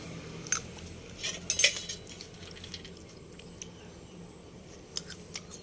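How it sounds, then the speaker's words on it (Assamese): Eating roti with fried vegetables outdoors in cool weather: faint clinks of cutlery on a plate and soft chewing, a few brief sharp clicks scattered over a quiet background, no talking. "এতিয়া মই খাই লওঁ এয়া ৰুটি আৰু কিবা ভাজি"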